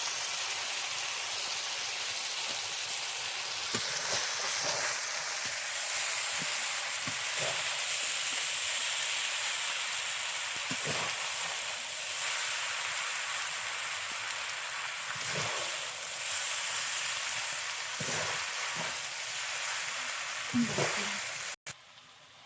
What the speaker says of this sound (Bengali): এখন চাউমিন একটু নেড়ে চেড়ে দেবো।